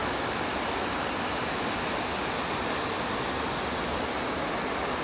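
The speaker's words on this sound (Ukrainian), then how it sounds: "І отакий шум річки" A river in Yaremche rushes in a steady, even roar of flowing water, constant and unbroken, heard from nearby.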